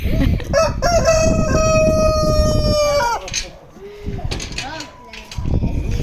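Chickens on a farm, a rooster crowing loudly and close in one long held call, followed by shorter clucks and squawks, with people talking and laughing nearby.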